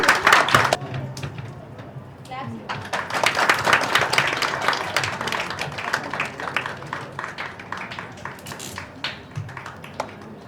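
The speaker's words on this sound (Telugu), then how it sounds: "అందరూ క్లాప్స్ కొట్టాల్సిందిగా కోరుచున్నాము" An audience at a logo launch event for a women's support initiative bursts into loud clapping right away, and sustained applause keeps going throughout, nearby and dense, with some voices mixed in.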